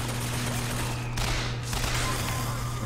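Turret gunfire in a video game, a sustained loud burst of rapid shots over a constant electronic hum, with a brief gap midway before the firing resumes.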